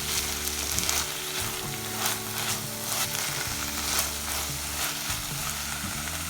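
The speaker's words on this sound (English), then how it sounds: "Give this a good stir." Ginger garlic paste and tomato puree frying in a pan, giving a steady close sizzle with soft stirring scrapes throughout.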